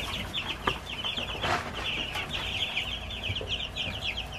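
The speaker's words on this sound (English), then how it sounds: "These meat chicks are looking pretty fat and happy." Meat chicks in a barn: a continuous chorus of high peeping and soft clucking from many birds, with occasional rustles and wing flutters close by and no voices.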